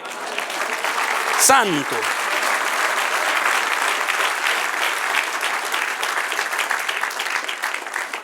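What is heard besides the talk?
church congregation applauding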